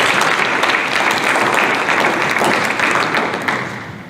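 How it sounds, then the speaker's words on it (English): A room of chamber luncheon guests applauds the annual sponsors, a loud, sustained wash of many hands clapping that eases off slightly at the end. "Let's give all of our 2020 annual sponsors a round of applause"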